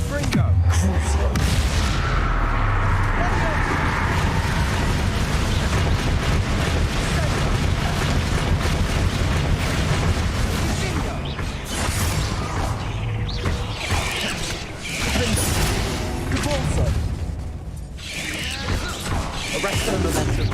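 Blasting spell explosions in Hogwarts Legacy during a hard-mode trial, dense and continuous booms and crashes with clattering impacts, loud and close throughout, with a voice speaking over the combat.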